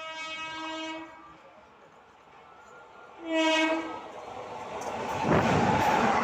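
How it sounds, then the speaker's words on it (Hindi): Jogbani–Danapur Intercity Express with new blue ICF coaches passing, its horn sounding in long steady blasts, with a second blast after a pause, then the rising rush and rumble of the train going by. "और ये रही ब्लू रंग के न्यू ICF कोच के साथ जोगबनी से दानापुर तक जाने वाली इंटरसिटी एक्सप्रेस।"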